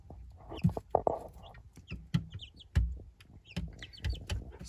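Young chicks in a brooder house huddle under a heat lamp on a cold night, giving out many short chirps and clucks in quick, uneven bursts, close by, with no talk.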